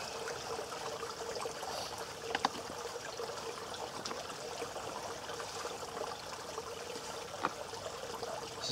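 Shallow stream water trickling steadily around a water bag being filled at a wild camp in Kent, a soft continuous babble with a few faint splashes, no talking.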